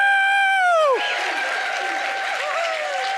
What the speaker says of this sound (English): now let's everybody cheer. Let's hear some noise.